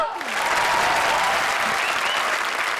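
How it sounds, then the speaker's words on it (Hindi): Studio audience applause on a Bollywood-themed comedy show, a loud, dense wash of clapping that swells in quickly and holds steady, with faint voices mixed beneath. "तो हो जाए जोरदार तालियां।"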